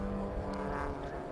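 A Fun Cup race car at Silverstone during a six-hour relay race passes steadily at a moderate distance, its engine drone holding a constant pitch for the whole short moment.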